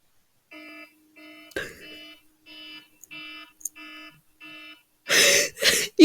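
An alarm clock beeps in a steady series of six evenly spaced electronic tones, fairly loud and close, followed by noisy rustling bursts at the end.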